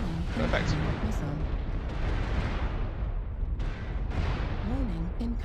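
MechWarrior Online missile salvos and explosions rumble continuously and loud, with heavy booming impacts and crackling bursts layered over warning tones and a voice talking.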